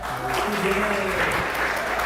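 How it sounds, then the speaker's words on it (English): Guests at a wedding toast applaud the staff with a short burst of steady clapping, with voices faintly mixed underneath. "Let's give a hand clap to the staff."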